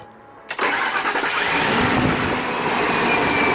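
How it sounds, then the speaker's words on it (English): A car engine in failing condition cranks and fires abruptly after a brief quiet moment, then runs loud and steady with a rough, rumbling idle. "we are just about to start the engine"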